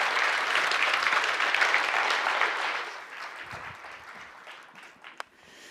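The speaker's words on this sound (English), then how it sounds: "ladies and gentlemen, give our apprentices a big round of applause, please" Audience applause for apprentices after a debate at a business event, a loud sustained wash of clapping that fades after about three seconds into scattered claps and a few late single hand claps.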